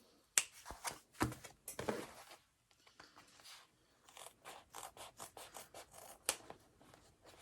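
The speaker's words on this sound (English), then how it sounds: "So I'm using these precision Olfa scissors so I can get right up next to my threads." Several crisp snipping clicks from small Olfa precision scissors trimming threads, close up, in uneven bursts with soft rubbing and handling sounds between them.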